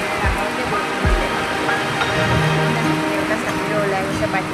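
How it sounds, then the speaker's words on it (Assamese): Heavy morning rain pours down in a dense, steady hiss on surfaces, with a faint low murmur beneath it and no pauses in the downpour. "ডাঙৰকৈ বৰষুণ দিলে।"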